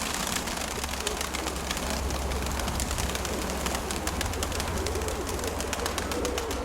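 Pigeons cooing steadily in a dense flock, low murmuring calls blending into a continuous background with scattered faint chirps.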